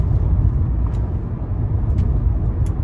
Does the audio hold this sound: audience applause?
no